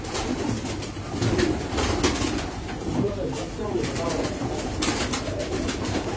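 Racing pigeons coo softly and continuously amid a dense, noisy background of rustling and fluttering, with a crowd of birds close by.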